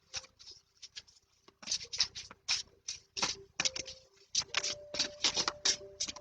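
Mayan oracle cards being shuffled by hand, quiet close papery riffles and soft slaps in quick irregular bursts, with no talk.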